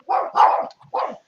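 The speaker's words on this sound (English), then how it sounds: "The cat must be teasing the dogs." Dogs bark in three quick, loud, close bursts, with a short gap before the last one, and no voices alongside.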